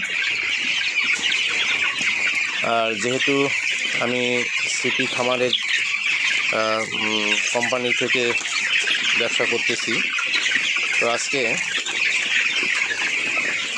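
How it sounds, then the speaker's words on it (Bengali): A flock of broiler chickens on a farm clucks and squawks in repeated bursts over a constant background din, while someone talks over them. "দেখেন মুরগিগুলো কত সুন্দরভাবে দৌড়াদৌড়ি করতেছে"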